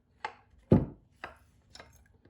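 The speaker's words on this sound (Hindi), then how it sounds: "यहाँ पे मैंने चॉपर ले लिया, इसके अंदर डालेंगे और चॉप कर लेंगे।" Food chopper cutting pizza sauce ingredients, four separate chopping thuds spaced about half a second apart, with the second one loudest and close by, and no talking.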